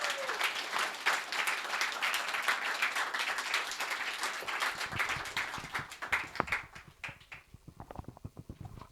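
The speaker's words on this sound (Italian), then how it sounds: "vi chiedo di fare un grande applauso per i nostri ospiti" An audience applauds its guests at the start of a talk about digital dystopias and censorship, a dense sustained clapping that thins into scattered individual claps near the end.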